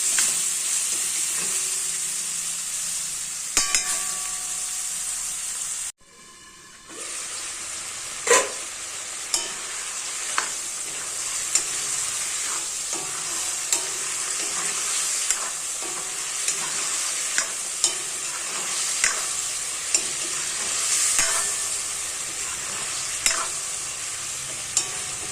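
Pork with ivy gourd (kundoli) sizzles steadily in a hot pan, a constant bright frying hiss with repeated sharp scrapes and knocks of a spatula, close, pausing briefly before the sizzle resumes.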